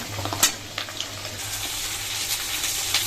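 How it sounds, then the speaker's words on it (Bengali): Potatoes frying in hot oil for chicken curry, a continuous close sizzle with a few sharper spatters and light stirring, heard alone without voices. "তো আলুটা এখন ভাজা হবে।"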